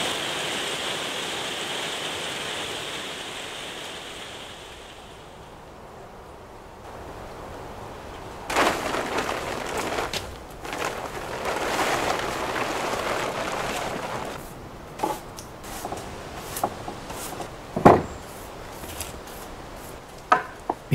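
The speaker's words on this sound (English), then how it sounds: "Even more rain." Steady hiss of rain fills the background, joined later by irregular taps, drips and knocks close by.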